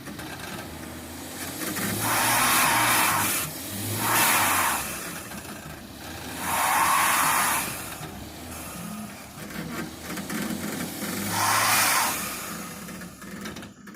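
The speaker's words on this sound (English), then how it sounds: "now we got to do a burnout test with the Ecoboost" A Ford 3.5 EcoBoost truck doing a burnout, its engine revving up in four repeated surges over a steady idle rumble, heard from outdoors at moderate distance.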